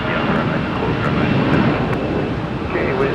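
An Airbus airliner at Minneapolis–St. Paul Airport gives off a loud, steady engine roar. The broad rumble holds evenly through the whole stretch without any clear rise or fade.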